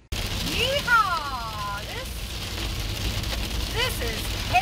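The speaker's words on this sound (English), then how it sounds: "This is hail!" Hail with big chunks of ice falls in a steady, dense patter against surfaces outdoors, under excited voices and squeals.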